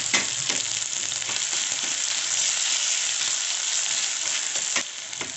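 Crushed ginger, chili and garlic with curry leaves sizzle hard in hot oil, a loud, close, continuous frying hiss with brief crackles and stirring.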